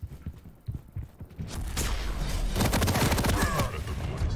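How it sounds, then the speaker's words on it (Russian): Rapid machine-gun fire in Quake Champions, starting as scattered shots and building into a loud, sustained rattling burst. "Но здесь Клоус мой с своим машинганом"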